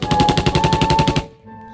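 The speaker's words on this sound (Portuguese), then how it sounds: "as metralhadoras nas aeronaves mudariam tudo" A rapid burst of machine-gun fire, about a dozen evenly spaced loud shots in quick succession, cuts off abruptly with a faint tail afterward.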